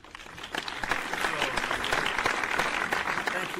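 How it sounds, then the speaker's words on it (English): Studio audience applause for former U.S. diplomat David Hunter, a steady clapping wash rising within the first half second and holding fairly loud to the end. "here's your applause, I think"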